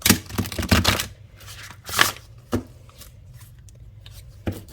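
Cards riffled and bent in quick bursts, a dense crackling flutter for about a second, then a few softer isolated snaps and flicks.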